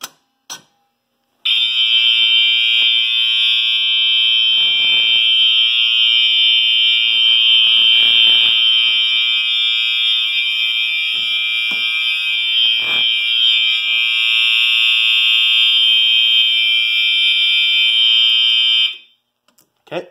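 Fire alarm panel sounding, its piercing electronic tone starting abruptly and holding loud and unbroken for about seventeen seconds before cutting off, with faint background clunks beneath.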